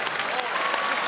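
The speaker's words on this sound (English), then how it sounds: "And they take the applause of this crowd that has really enjoyed these two." A crowd at a strongman axle press event applauds two athletes, a continuous wash of clapping and cheering heard under a commentator's voice.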